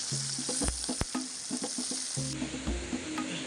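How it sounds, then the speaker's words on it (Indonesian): Oil sizzles and crackles steadily as fish fries in a pan, with a few clanks of a utensil against the pan. "Untuk ikannya akan aku goreng dulu, tapi ini gorengnya sampai kering ya."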